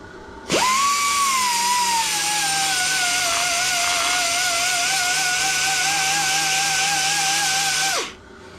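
A belt grinder works a two-stroke exhaust pipe, starting suddenly and holding a loud, steady high-pitched whine for about seven seconds before cutting off. The grinding is close and alone, with no talk.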